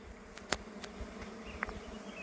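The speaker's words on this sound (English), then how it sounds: "the bees are starting to come out" Honey bees buzz around a beehive box outdoors, a steady droning hum with individual bees zipping close past now and then.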